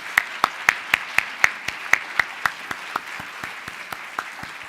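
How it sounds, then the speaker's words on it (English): An audience applauds the finalist readers at the National Book Critics Circle Awards, a steady run of distinct, fairly close hand claps that thins toward the end, with no talk over it. "Can we just give one more round of applause to our fabulous readers?"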